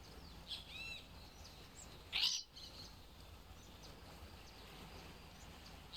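Parrots in the video game Stardew Valley calling against a quiet outdoor ambience, with a few faint chirps early on and one brief, sharp squawk in the middle.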